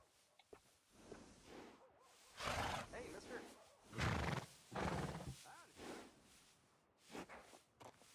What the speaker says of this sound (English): listen, that is a pretty horse.